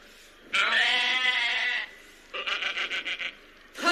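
Goat bleating loudly and close: one long wavering bleat, a pause, then a rapid series of short stuttering bleats, with the start of another call cut off at the end.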